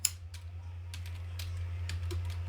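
Someone types HTML, CSS and JavaScript code on a computer keyboard, with light scattered keystrokes over a low steady hum and no talking.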